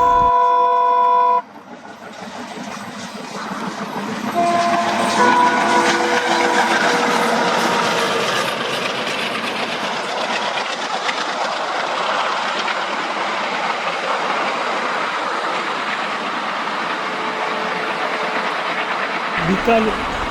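An ALCO diesel locomotive hauling a long 24-coach ICF train from Ganganagar to Nanded gives a brief horn blast, then a sustained heavy rumble of engine and rolling coaches that continues loud and steady.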